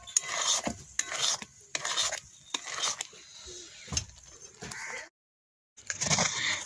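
Egg halwa being stirred in a wok produces repeated rhythmic scraping strokes of a spatula against the pan, close and steady, broken by a brief silence near the end, with no talking.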